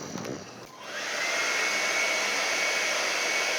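A hair dryer blowing on wet red acrylic paint: a steady, loud airy whir with a faint motor whine, starting after a brief clatter and running continuously alone.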